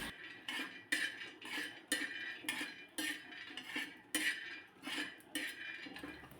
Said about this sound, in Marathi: त्यानंतर याच गरम तव्यामध्ये अर्धी वाटी मी शेंगदाणे घातलेत